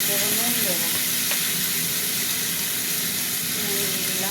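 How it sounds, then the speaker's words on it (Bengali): Cumin, dried chili and tomato fry in a pan with a loud, continuous hissing sizzle close by and occasional stirring, with a faint steady hum underneath and no speech. "জিরে শুকনো লঙ্কা ভাজা ভাজা হতে থাক"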